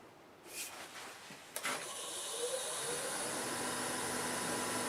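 A wood lathe spins up to turn a cherry plum bowl-vase: a couple of clicks and a knock, then a steady whirring motor whine that rises and holds, fairly close.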